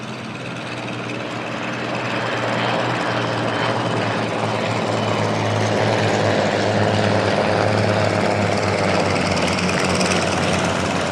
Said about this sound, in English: an unforgettable symphony of Rolls-Royce Kestrel engines